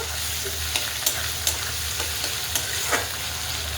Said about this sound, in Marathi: आता इथे टमॅटो टमॅटो आणि कढीपत्ता टाकून घेतलेला आहे आता आपण एक जीव करून घेऊया